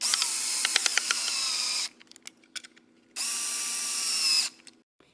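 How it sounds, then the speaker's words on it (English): Power driver running four self-tapping screws into a wireless phone charger during a Silverado and Sierra retrofit, with two loud sustained whirring bursts separated by a quiet gap of small clicks and handling noise. "hold it into position and install the 4 self-tapping screws"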